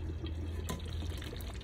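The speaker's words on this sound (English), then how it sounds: "You guys see it's really splashing everywhere." Tomato stew bubbling and splashing in a pot, a steady wet crackle and spatter with small drips, heard close up and without talk.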